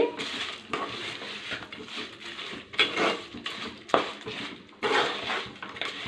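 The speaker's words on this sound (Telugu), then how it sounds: "ఇప్పుడు కలిసేదాకా కలుపుకున్నామండి" A spoon scrapes and knocks against a pan while gongura chutney, seasoned with a tempering, is stirred. The strokes come in irregular bursts with short pauses between them, close and moderately loud.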